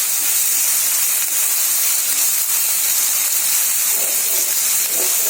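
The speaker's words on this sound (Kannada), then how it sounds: "ಕ್ಯಾಬೇಜ್ ಹಾಕಿಕೊಂಡು ಮೀಡಿಯಂ ಫ್ರೈ ಮಾಡಿಕೊಳ್ಳಿ." Cabbage fries over medium heat in a pan for gobi manchurian, giving a loud, continuous broad hiss that stays close and steady throughout, with faint clatter near the end and no talk.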